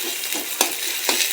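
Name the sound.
stirring curry being fried in a pan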